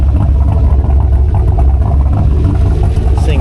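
A turbocharged LS engine in a 2500HD truck with a solid axle swap and a freshly installed transmission runs while driving, a loud, deep, steady rumble heard close up and unbroken for the whole stretch.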